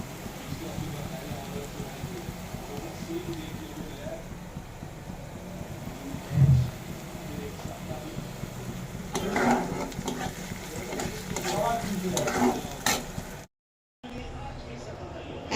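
Sliced onions fry in oil into crisp birista for biryani, giving a steady, soft sizzle throughout, with brief clattering and stirring noises toward the end.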